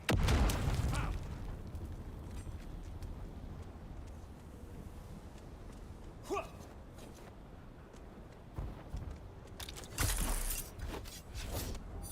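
A grenade goes off in a multiplayer video game, making a loud burst near the start, followed by quieter mechanical and vehicle noise and a few later thumps and bangs.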